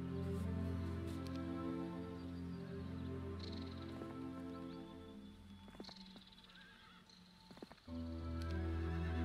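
Horses at stables in a castle strategy video game, whinnying and neighing with hoof clip-clop over a steady looping game music bed, loud and close.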